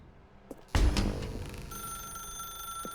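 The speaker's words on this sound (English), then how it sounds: "Now pick up the phone." A telephone in the video game The Stanley Parable starts ringing after a loud thump, with a steady high electronic ring tone sustained near and clear, no talking.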